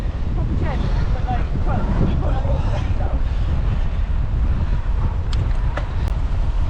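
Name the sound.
wind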